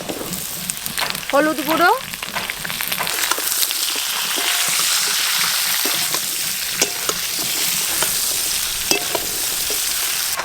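Ridge gourd pieces and lightly fried potatoes sizzle in a pan while being stirred, a steady frying hiss with intermittent scraping, and a voice speaks briefly near the start.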